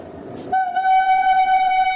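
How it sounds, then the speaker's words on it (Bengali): A passenger train pulling out of New Madanpur station in Jharkhand sounds a loud, sustained horn that starts abruptly and holds steadily, preceded by a brief rumble of the train. "আমাদের ট্রেন এখন ছেড়ে দিল নিউ মদনপুর রেলওয়ে স্টেশন"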